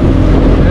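A speedboat on Tehri Lake roars loud and close with a steady engine drone and heavy wind buffeting the microphone throughout.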